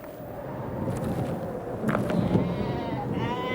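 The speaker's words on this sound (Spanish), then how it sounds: "Había cerca de él unas 30 ovejas acostadas descansando sobre la tierra ardiente." A flock of about thirty sheep resting on hot, dry ground beside a shepherd gives out faint, scattered bleats over a steady, wind-like background hiss.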